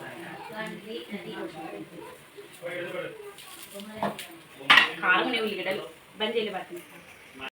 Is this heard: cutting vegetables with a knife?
yes